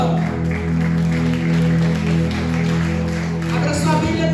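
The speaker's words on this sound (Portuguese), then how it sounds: "Você pode aplaudir ao Senhor?" A church congregation at a Wednesday service claps over sustained keyboard or organ chords, a dense patter of hands under the music with a voice rising near the end.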